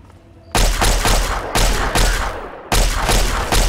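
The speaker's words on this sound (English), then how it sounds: "He doesn't see me shooting at him right here" Gunfire in Fallout 3 on Xbox Series X: three loud, sharp bursts of shots with short gaps between them, each ringing out broadly and tailing off, close to the listener with no talking.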